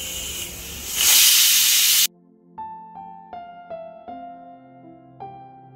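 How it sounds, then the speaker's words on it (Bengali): A pressure cooker holding roasted mung dal lets out a loud, hard burst of steam hiss lasting about a second that cuts off abruptly. Soft, ringing tonal notes follow at a lower level. "ভাজার পরে কুকারে বসিয়ে দিলাম ডালটা সিদ্ধ হওয়ার জন্য"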